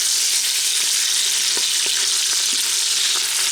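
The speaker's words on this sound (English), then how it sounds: "it sure sounds like it's sizzling" Beer brats sizzle and fry on the sauté setting of an Instant Pot, a steady close hiss with faint crackles and pops throughout.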